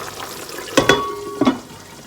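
Red curry chicken with long beans cooks in a pan, a low steady bubbling and sizzle broken by two short clattering stirs, close by with no talking.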